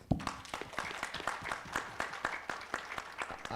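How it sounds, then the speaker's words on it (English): Sparse, distinct hand claps from a small audience at a mining technology groundbreaking in Lusaka, Zambia, for a CEO, individual claps rising and falling in loose rhythm, fairly quiet and close. "she deserves another round of applause"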